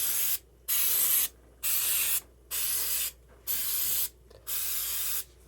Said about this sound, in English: Spray the inside of the cupcake pans with oil.